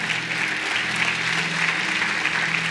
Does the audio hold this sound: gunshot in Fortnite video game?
no